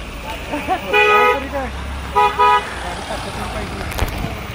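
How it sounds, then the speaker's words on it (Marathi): A red MSRTC state transport bus passes on a road near a hill fort, giving two loud horn toots close by over road noise. "लालपरी चालली साईडून बघा."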